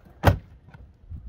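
A drawer on a Milwaukee Packout tool box slides and stops with a single sharp, close knock, followed by a faint soft rattle and a low rumble.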